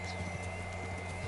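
Rapid rhythmic clip-clop of galloping horse hooves in the video game Kingdom Come: Deliverance runs steadily over a constant low hum, with no talking.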